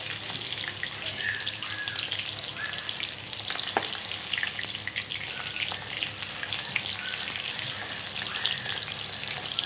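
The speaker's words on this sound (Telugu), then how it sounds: "చికెన్ ఇలా అన్నింటినీ ఫ్రై చేసుకుందాం" Restaurant-style chicken wings fry in hot oil with a continuous dense sizzle and scattered crackles, close and steady, with no talking.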